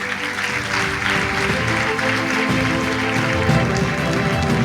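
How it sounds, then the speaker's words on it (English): A large audience at a dental college convocation award ceremony gives a round of applause, a dense, sustained roar of clapping filling the hall over a low hum. "I think they need a round of applause for that."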